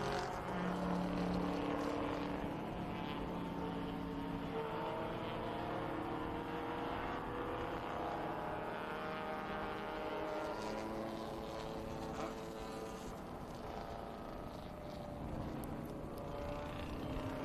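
A vintage GT Corvette race car rolls into pit lane at Indianapolis Motor Speedway, heard as a faint, distant engine drone mixed with a steady wash of track ambience.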